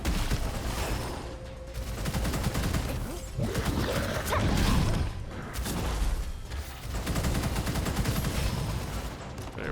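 Gunfire Reborn video game combat with a corrosive and explosive elemental explosion, heard as dense, continuous loud gunfire and blasts with mechanical clatter, a heavier burst building around the middle, and no speech.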